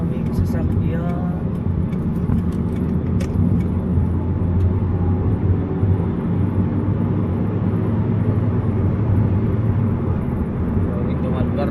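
Steady, dense roar of many vehicles on a busy highway toward Manila before dawn on a Monday, a continuous low rumble with passing swells and voices talking over it.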